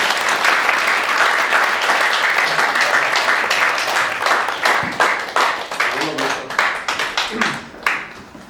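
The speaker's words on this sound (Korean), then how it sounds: "박수로 환영해 주시기 바랍니다." A church congregation at an installation thanksgiving service applauds in welcome, loud and full at first, then thinning into scattered separate claps that trail off as the applause ends.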